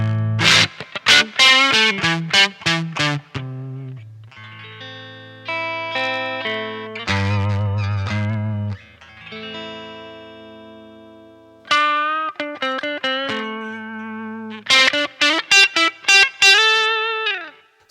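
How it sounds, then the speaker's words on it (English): Electric guitar played through an effects pedal set to a raspy, fuzzy, hairy distortion, with bursts of strummed chords and sustained single notes that ring out loud and alone. "it's doing a raspy, fuzzy, hairy that I've never heard before"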